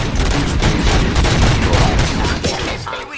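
Rapid gunfire in the video game RoboCop: Rogue City, a dense loud fusillade of overlapping shots with a faint voice under it, tailing off near the end.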